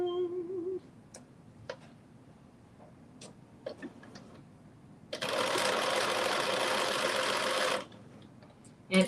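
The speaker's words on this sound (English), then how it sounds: "as you're sewing around, you're just going to make sure everything is nice and neatly lined up" Sewing machine running steadily for about three seconds, stitching around the waistband casing of dressy joggers, close and loud, with a few short clicks and handling taps before it starts.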